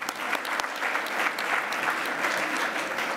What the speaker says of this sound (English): So again, big round of applause for you all.